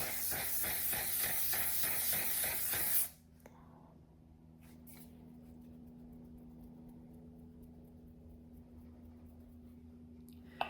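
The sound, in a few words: spraying One Size Until Dawn waterproof makeup setting spray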